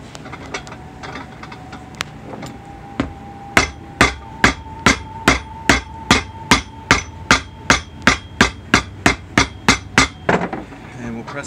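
Hammer blows drive nails into the heel of a Red Wing Rough Out Engineer boot during a resole. Sharp, evenly spaced strikes, about twenty in a row at a quick steady rhythm, sound up close after a few scattered taps.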